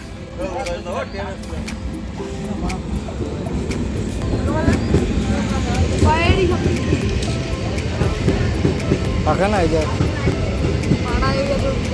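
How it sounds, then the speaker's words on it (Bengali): A train rumbles in, its steady mechanical roar building as it draws near, with screeching brakes and voices chattering over the noise. "ট্রেন চলে এসছে এবার আমরা ট্রেনে উঠবো"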